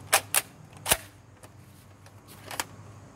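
A Nerf Elite 2.0 blaster fired with a loaded tactical magazine, heard as a few sharp, close mechanical snaps and clacks spaced across a quiet background, the loudest shot near the middle.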